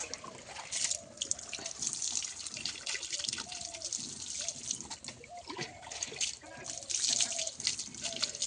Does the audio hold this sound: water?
yes